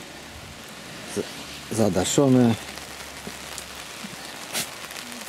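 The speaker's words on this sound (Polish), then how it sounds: "cieszymy się, że pada" Steady rain patters on the plastic cover of a polytunnel of tomatoes, a continuous soft hiss throughout, with brief speech in the middle and a few louder drips.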